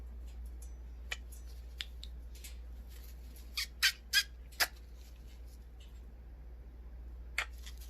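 A sun conure parrot indoors lets out a cluster of sharp, piercing squawks near the middle, with a few shorter chirps scattered before and one more near the end, over quiet background hum.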